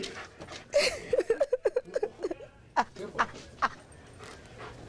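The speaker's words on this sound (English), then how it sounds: "We wanted to see just how good of a tracker dog Exxon really is" A police tracker dog working a trail makes a run of quick, yelping whimpers and short yips, then a few sharper separate barks, fairly close and moderately loud.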